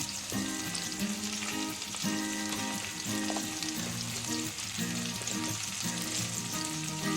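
Onion, capsicum and garlic fry in a pan with salt, turmeric and chilli, giving a steady, close, dense sizzle that continues without a break and with no voices.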